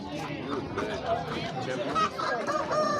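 Rooster calls ring out amid a noisy crowd at a poultry market, with people talking continuously over the birds.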